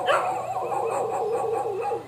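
A dog barks repeatedly in quick yapping bursts, fairly close, a steady run of short barks with a whiny edge.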